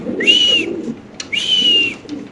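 Two drawn-out pigeon cooing calls close by at a fancy pigeon farm, each a smooth sustained note separated by a short pause.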